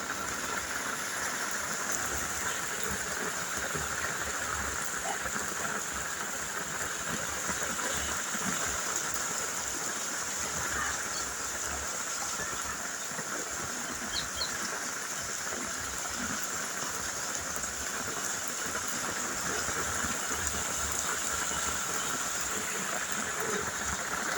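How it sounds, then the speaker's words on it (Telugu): Heavy rain pours steadily over a village, a dense, even hiss of water on surfaces that never lets up, close and loud throughout. "అనుకోకుండా వచ్చిందండి వర్షం."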